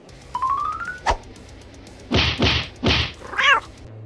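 A cat meows several times, a rising call followed by a series of loud, drawn-out meows spaced about half a second apart, with a single sharp thump partway through.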